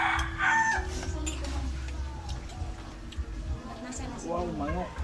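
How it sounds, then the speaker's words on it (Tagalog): A rooster crows several times outdoors near a house under construction. The calls come through steady background noise and conversation. "Wow, manok."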